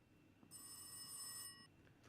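A telephone rings in the horror game Rise of Insanity, a bright electronic ring lasting about a second over a low, quiet ambient drone, fairly faint and alone without talk.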